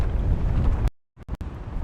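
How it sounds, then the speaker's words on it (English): Strong wind buffeting an outdoor microphone at a cherry blossom viewing spot in Japan, loud rumbling gusts that cut out briefly to near silence before bursting back in choppy bursts. "Well, it is really windy here."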